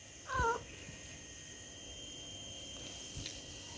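A pet cat gives a short, faint meow near the start, with a second soft call near the end. A steady electronic hum sits underneath in a quiet indoor room.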